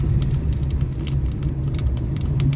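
A car engine labors steadily as it climbs a steep ramp, a low, continuous rumble heard from inside the cabin with faint clicks and knocks.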